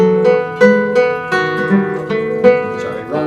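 A string instrument plays a short melodic phrase of evenly spaced plucked or bowed notes in strict time without rubato, fairly loud and close, with no talking.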